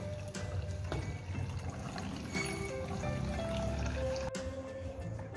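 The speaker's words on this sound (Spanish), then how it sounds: "Hemos colado nuestro coco, luego lo volvemos a la licuadora." Strained coconut liquid, made for coconut lemonade, pours back into a blender in a steady, close watery stream with a faint trickle that holds through the whole stretch.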